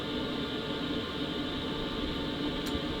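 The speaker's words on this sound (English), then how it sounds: "So basically you're just hearing air moving through the duct." Air from a BougeRV diesel heater turned down low, rushing through a duct in a travel trailer as a soft, even whoosh with a faint hum, steady and quiet, one tiny click near the end.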